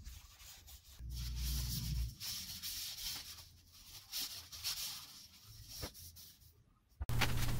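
A wooden salt and pepper mill, turned on a lathe, is sanded in a steady, soft rubbing rasp that runs for several seconds with brief pauses and a sharper burst near the end, with no voices.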